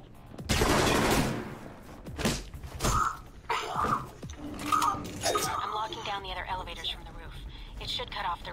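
Gunfire in the video game Alpha Protocol: several sharp, loud shots and bursts spaced through the stretch, with a voice talking over and between them.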